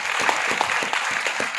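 A burst of enthusiastic clapping from an audience honouring Prashant Raut at a gathering, dense and close, filling the whole short moment.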